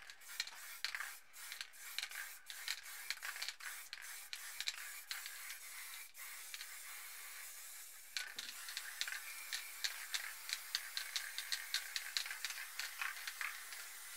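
A spray paint can hisses in a long series of short and longer bursts, close and fairly quiet, with brief pauses and a faint rattle.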